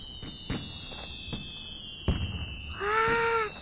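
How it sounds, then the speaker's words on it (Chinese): Cartoon fireworks during a Lunar New Year celebration, several sharp bursts and cracks at irregular intervals followed by a rising whistling shell near the end, fairly loud and alone. "好漂亮的烟花！"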